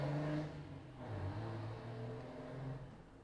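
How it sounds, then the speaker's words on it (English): A noisy truck rumbles past outside a window, a low engine drone that swells and fades over a few seconds with no talking. "Sorry, noisy truck out my window."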